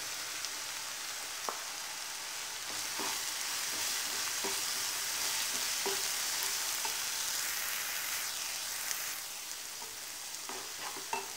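Powdered dried red chili sizzles and crackles in hot oil for garlic chutney, a steady bright hiss broken by scattered pops and spits, close up and without talk.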